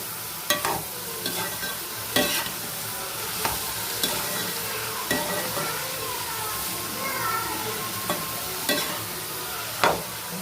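Raw mango pieces sauté in a pan for instant pickle, a steady sizzle broken by periodic spoon scrapes and stirs, with voices talking in the background.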